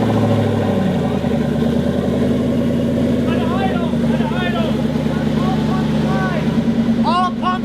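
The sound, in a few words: turbocharged car engine starting and running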